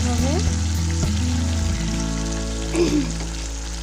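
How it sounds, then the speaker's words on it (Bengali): Flour-coated marinated pieces fry in a pan, giving a loud, dense crackling sizzle that runs throughout, with a brief squeal of a utensil against the pan partway through. "দিয়ে ওখানে কিছুটা আটা দিয়ে উপরে নিচে আমি ভেজে নিচ্ছি"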